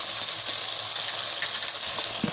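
Onion, ginger, garlic and green chili fry in a pan with a steady, close, bright sizzle and a soft thump at the end.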